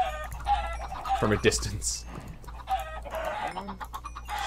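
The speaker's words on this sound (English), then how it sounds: "Well, look at all these baby chicks. The chicken life, yo." Chickens and baby chicks in the video game Minecraft give soft, scattered clucks at moderate distance while people talk over them.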